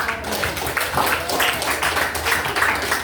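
A classroom of students gives a round of clapping for group 5 during a physical education teaching session; uneven, pulsing applause from a modest group, with murmured voices mixed in.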